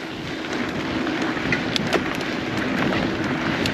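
Crosswind blowing across an outdoor downhill bike course, a loud steady rush of wind buffeting the microphone with a few brief gusts and knocks, no voices.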